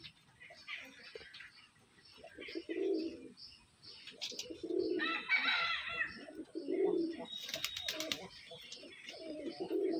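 Pigeons coo in soft repeated low calls with scattered chirps and light pecking at grain, close by, while someone talks over them.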